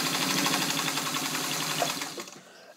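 A restored Singer 66 domestic sewing machine, modified for extra heavy sewing, runs steadily through thick material with a dense, even mechanical whirr that stops abruptly near the end.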